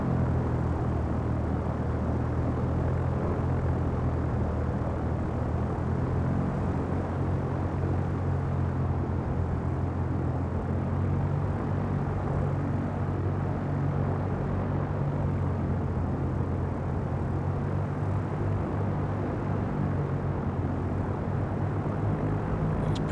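An aircraft engine in a flight simulator game drones at a steady, even pitch with the throttle eased back, a constant low rumble with no voices over it.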